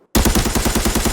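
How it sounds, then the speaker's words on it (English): Rapid automatic fire from an AK102 rifle in the video game Arena Breakout, a loud, steady burst of about ten evenly spaced shots that starts abruptly after a moment of quiet. "I totally whiffed my shots here"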